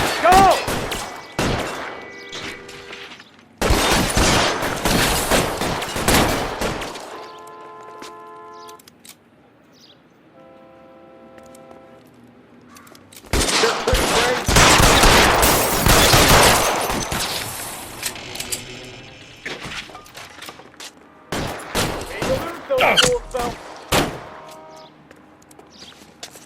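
Repeated bursts of gunfire from the video game L.A. Noire, heavy fusillades of rapid shots in loud clusters separated by quieter gaps, with voices calling out amid the shooting.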